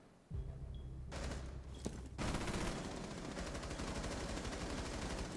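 Gunfire in the tactical shooter Rainbow Six Siege: bursts of rapid automatic shots start abruptly, pause briefly, then resume as sustained dense firing, loud and close with no talk over it.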